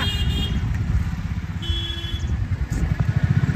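An auto rickshaw engine idles and runs close by, a steady low throbbing putter with faint traffic in the background.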